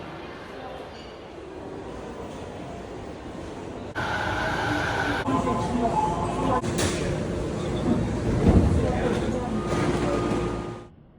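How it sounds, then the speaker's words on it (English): A local train bound for Chiba, near Narita Airport, rumbles and rattles past nearby, with clattering wheels and metallic screeches growing louder before fading out at the end. "It will be a local train bound for Chiba."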